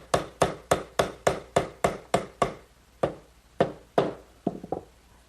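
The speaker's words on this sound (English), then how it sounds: "Maybe just a little gentle persuasion from a rubber mallet." A rubber mallet taps a glued wooden dovetail joint into its slot for a candle stand, giving about a dozen evenly spaced, close, dull knocks followed by a few quicker, softer taps.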